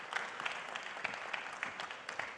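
Audience applause for Benin's President Patrice Talon at a French business leaders' gathering: steady, fairly faint clapping from a large crowd, continuous throughout with small irregular peaks.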